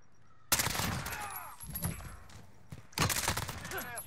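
Bursts of AS Val rifle gunfire in a first-person shooter game, two separate volleys of rapid suppressed shots about two seconds apart, each fading out, over a faint game background with no talk.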